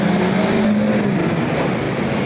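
Banger stock cars racing around an oval track at Mildenhall, a dense loud roar of engines as the pack runs down the back straight, continuous and close.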